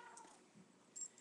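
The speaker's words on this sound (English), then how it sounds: "So sorry if you hear the meowing in the background because she's very pushy." A pet cat meows faintly in the background of a quiet room, giving two or three brief soft cries that stand alone with no talk over them.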